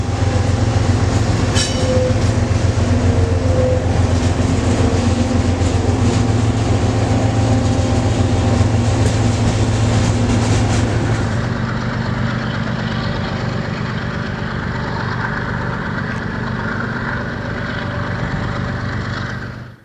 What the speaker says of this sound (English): the grainer we saw a little bit ago going south was now coming back north